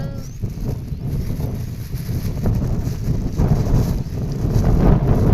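Strong wind buffets the microphone with a continuous low roar that swells louder toward the end.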